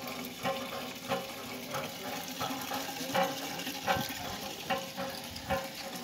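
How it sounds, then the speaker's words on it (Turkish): A hand pump drawing drinking water at a well, rhythmic splashing gushes roughly every half second as water pours out, steady and moderately close outdoors. "Bu el pompası."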